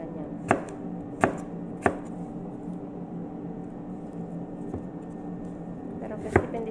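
Kitchen knife chopping vegetables for atchara, pickled papaya relish, on a board: a handful of sharp, separate cuts spaced irregularly over a soft background hush, fairly close.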